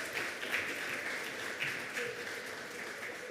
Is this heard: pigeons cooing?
no